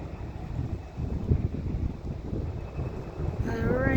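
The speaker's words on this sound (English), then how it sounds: "Sorry, it's so windy." Strong wind gusts buffet the microphone outdoors near an airport, a steady loud rumbling roar that rises toward the end, with a faint high tone entering late.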